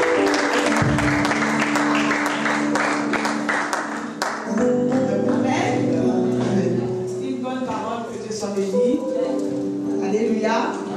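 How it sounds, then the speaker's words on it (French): A church congregation claps and cheers, a dense burst of applause at the start giving way to sustained voices and singing-like calls that carry over the room. "Est-ce que tu peux encore mieux acclamer?"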